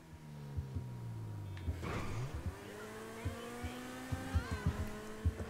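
A car engine in the video game GTA V during a race, revving with rising and falling harmonic pitch sweeps and sharp knocks, loud and close with no talking.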